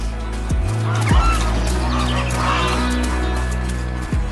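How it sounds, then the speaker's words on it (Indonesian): Small geese out on a clear lake, giving a few scattered honks and calls over a low, steady rumble, with an animated farm scene's music and bustle around them. "Berenang di danau yang jernih, angsa kecil bermain dengan riang."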